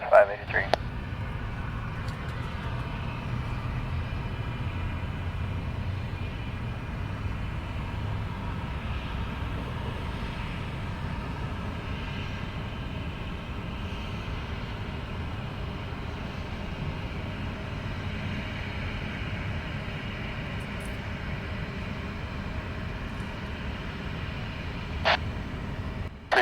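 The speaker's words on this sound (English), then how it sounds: "Southwest 583, Limburg Tower, wind calm, runway 27, cleared for takeoff." A Southwest airliner takes off from runway 27 in San Diego, a broad, steady jet roar held for the whole stretch at moderate distance, with brief sharp clicks at the start and near the end and radio-style talk over it.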